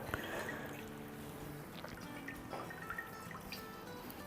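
Water is squeezed out of grated bottle gourd (lauki), a faint trickling and dripping of liquid with soft wet splashes, heard close and quiet.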